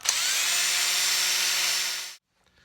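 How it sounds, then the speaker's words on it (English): A power drill spinning a guitar string winder whirs continuously for about two seconds at close range, a steady high-pitched spin that winds down and cuts off into silence. "This is a little string winder that goes right inside your drill bit."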